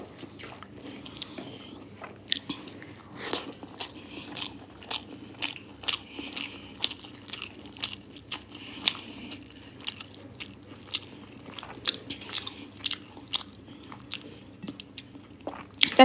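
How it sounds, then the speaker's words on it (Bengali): Someone eating fish, with close, repeated bites and crunchy chewing, irregular sharp crackles and soft squishes spread across the whole stretch over a quiet background, no speech. "আমি আমার অল্প অল্প করে খেয়ে নিচ্ছি"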